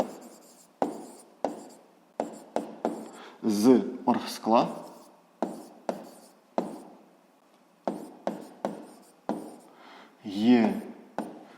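Handwriting while solving a physics exercise: irregular bursts of pen scratching and tapping strokes, fairly close, with a person speaking between and over the writing.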